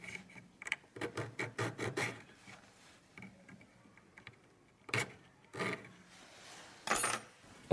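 A flat hand file rasps along metal edges to level them, in a series of short scraping strokes, quick and rhythmic at first, then a few slower separate passes, close and fairly quiet with no talking.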